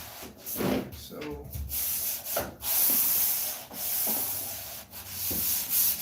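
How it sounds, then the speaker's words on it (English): Wood being sanded by hand with steady up-and-down strokes, a loud, close, continuous scratchy rubbing that rises and falls with each pass, with brief pauses between strokes. "when you're sanding"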